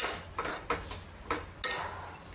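A spoon stirs spinach bhaji in a metal cooking pot, giving a few light scrapes and clinks spaced irregularly, fairly close and quiet with no voices.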